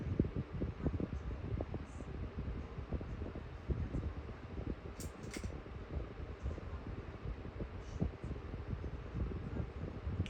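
An electric fan running at high speed gives off a steady, faint whooshing rush of moving air with a low rumble, unbroken and even for the whole stretch, with no talking.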